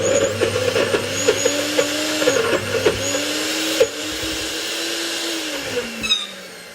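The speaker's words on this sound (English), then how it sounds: "And we're gonna blend it." A small blender whirs loudly with a wavering motor pitch, blending with a little water, interrupted by clunks and rattles of contents before winding down near the end.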